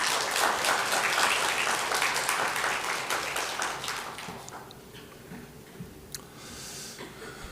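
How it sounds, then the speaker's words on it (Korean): Congregation applauding in thanks after a men's choir sings at a Sunday morning church service, loud sustained clapping from many hands that gradually thins and fades to scattered claps. "다시 한번 감사의 박수 하시길 바랍니다"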